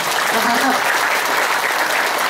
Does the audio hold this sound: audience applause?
yes